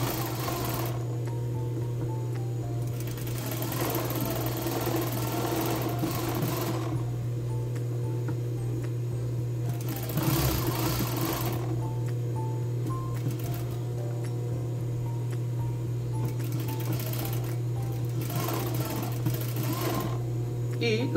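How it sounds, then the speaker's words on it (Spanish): A sewing machine runs a long stitching seam on embroidered lace men's underwear, a steady close hum with mechanical chatter that keeps going while a person talks throughout. "la parte del trasero también voy a pasar un pespunte para fijar esa costura"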